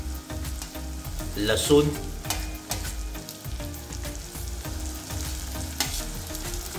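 Carrot, ridge gourd, green chilli paste and garlic sizzle in a hot pan while being stirred for South Indian style upma, a steady loud frying hiss with scraping stirs throughout.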